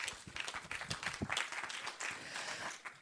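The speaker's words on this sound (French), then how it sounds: "Qu'on peut applaudir au passage." A small audience at a round-table panel gives brief, light applause, a few scattered claps rising and fading over a few seconds.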